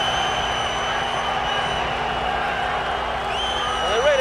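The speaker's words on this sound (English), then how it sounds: "getting a tremendous welcome from the Swiss crowd" Swiss crowd at a 1971 boxing event greeting Muhammad Ali, a steady broad roar of cheering and applause from many people, continuous and fairly loud throughout, with a commentator talking over it.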